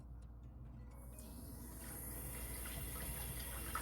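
Tap water runs steadily over a vinegar-soaked raw turkey neck in a sink, a continuous close splashing gush that grows slightly fuller as it goes, with no talking.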